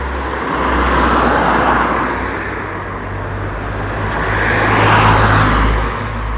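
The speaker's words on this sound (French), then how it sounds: "Ouais, les voitures, hein" Cars pass along a nearby road at night, a steady traffic rumble with two broad swells as vehicles approach and recede, no voices over it.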